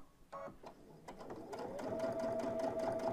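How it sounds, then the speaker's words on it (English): An embroidery sewing machine back-stitches fabric, a few short bursts of needle clatter giving way to a steady, close mechanical whir, faint and alone. "I'm gonna kind of do some back stitching."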